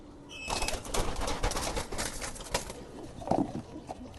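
A young pigeon, a cross between a Kaldam and a local Giribaz, coos and flutters close by in a loft, with scattered wing flaps and soft rustling.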